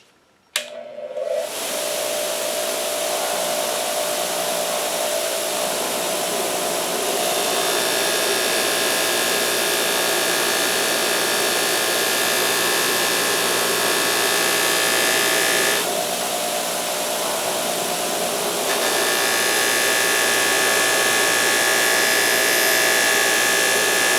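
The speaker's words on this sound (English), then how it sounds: "here I am at my buffer. I've got like a Scotch-Brite pad kind of wheel on it." A bench buffer fitted with a Scotch-Brite pad wheel polishes a motorcycle front fork, giving a loud, steady broadband whir that runs continuously for the whole stretch, with slight shifts in tone as the part is pressed against the spinning wheel.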